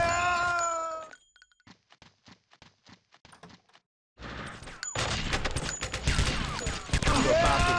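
Gunfire in the crime game True Crime: Streets of L.A. on the streets of Los Angeles: a short burst of shots, then a quiet stretch of faint clicks, then loud dense action noise from about four seconds on.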